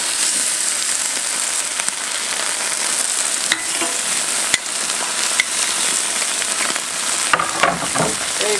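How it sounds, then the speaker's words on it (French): Beef rib steak sears on a very hot barbecue grill, giving a steady, loud, close sizzle and crackle throughout with a few sharp pops. "on va venir poser notre viande, mais vraiment sur une grille vraiment chaude pour avoir une super saisie"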